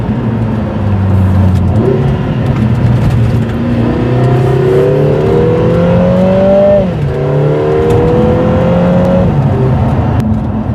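A Lotus Emira with the i4 turbo engine and a Milltek exhaust drives along a damp back road, its loud exhaust note climbing steadily through the gears, dropping at each shift and then rising again, close and continuous with no talk.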